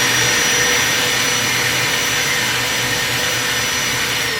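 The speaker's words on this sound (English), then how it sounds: "We'll plug in the vacuum" A household vacuum cleaner runs continuously at close range, a loud steady motor whine and airflow roar with no pauses, plugged into a wall outlet.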